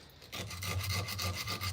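Sandpaper rubs back and forth over wood in quick, close, scratchy strokes, a short burst of rasping friction with no talk.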